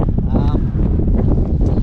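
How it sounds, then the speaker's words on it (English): Loud wind roars across the microphone on Lugnaquilla mountain in County Wicklow in a steady, heavy rumble, with a voice faintly audible underneath. "it is pretty windy"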